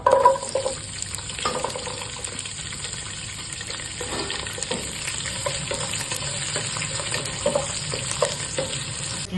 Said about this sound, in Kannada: ಈಗ ಮೊದಲು ನಾನು ಗರಂ ಮಸಾಲ ಹಾಕ್ತಾ ಇದ್ದೇನೆ ಈಗ ಬೆಳ್ಳುಳ್ಳಿ ಕರಿಯಪ್ಪ ಕರಿಲೀವ್ಸು ಇದು ನೀರುಳ್ಳಿ ಎಲ್ಲ